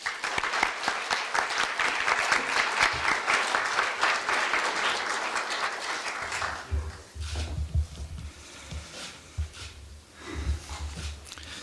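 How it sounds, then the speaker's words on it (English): A university lecture audience at Korea University welcomes the president with applause; loud, dense clapping fills the first six seconds, then thins out and fades while low rumbling handling noises and breathing come close to the microphone. "Let's welcome President Yum with a round of applause."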